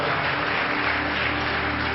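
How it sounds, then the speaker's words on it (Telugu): A crowd claps loudly at a gathering, a dense, continuous wash of applause that holds steady for a couple of seconds without letting up. "గట్టిగా చప్పట్లు కొడదాం."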